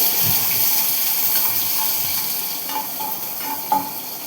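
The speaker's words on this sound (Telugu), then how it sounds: "మంచిగా కలుపుకోవాలి. కొంచెం ఫ్రై అవ్వాలి ఆనియన్స్." Onions fry in a pan for an aloo, cucumber and tomato curry, giving a soft continuous sizzle broken by a few scraping stirs and light clinks toward the end, close by with no talking.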